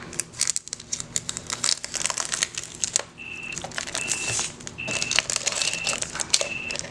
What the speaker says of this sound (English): I'm just gonna cut open this wrapping